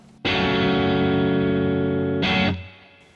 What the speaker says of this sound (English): sound of my Katana with the dirty clean sound